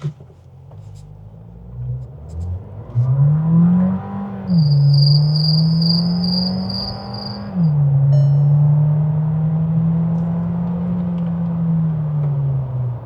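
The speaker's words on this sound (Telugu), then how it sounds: "సౌండ్ వినొచ్చు, ఇంజన్ సౌండ్ వినొచ్చు మీరు." A 2025 Volkswagen Taigun engine turns over and settles into a steady idle hum, stepping up in pitch briefly before holding a constant drone.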